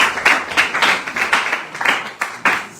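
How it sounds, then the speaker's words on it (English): An audience at a school awards ceremony claps for the winning college, a loud, close burst of applause with uneven, rhythmic clapping peaks and no speech. "Big round of applause for them."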